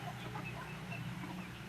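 An Easter Egger hen clucks softly and continuously nearby, low murmuring chicken sounds over a faint outdoor background.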